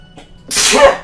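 One loud, close sneeze in the game Phoenix Wright: Trials and Tribulations, a short breathy intake followed by a sharp burst.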